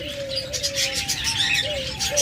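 A flock of caged lovebirds, cockatiels and budgies offered for sale as breeding pairs chirps and twitters nonstop in a thick, close chorus over a steady low hum.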